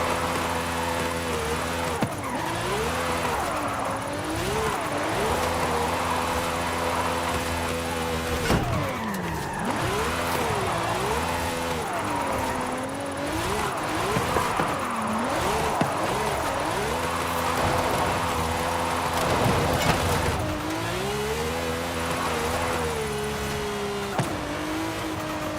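A Ferrari drifts in Forza Horizon 5, its engine revving steadily with pitch swooping up and down through long slides, loud and continuous for the whole stretch with a faint voice now and then.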